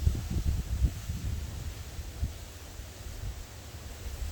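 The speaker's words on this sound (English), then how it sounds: "You can hear the wind." Strong wind blowing outdoors around a garden, heard as low, gusty rumbling buffets against the microphone, loudest in the first second and then settling into a steady, softer roar with a faint airy hiss.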